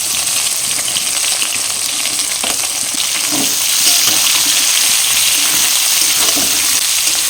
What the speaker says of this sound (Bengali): এই পেঁয়াজ কুচিটা দিয়ে দেবো